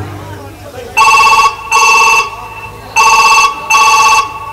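A telephone bell rings loudly and close by in two double-ring bursts, each pair of sharp electronic trills separated by a short pause, with faint voices just before the first ring.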